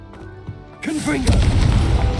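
A single deep boom bursts out after a short lead-in of game sounds, followed by a loud rumbling crash that fills the space: a Confringo blasting curse exploding in Hogwarts Legacy.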